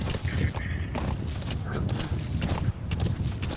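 Galloping horse in the video game Metal Gear Solid V, rapid rhythmic hoofbeats running steadily and fairly close throughout, with a little faint talk in the background.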